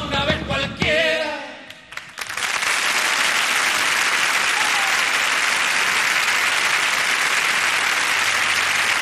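Studio audience applause after a live chacarera performance by a folk group on a 1989 television program; some singing fades out, then loud, dense, steady clapping fills the rest.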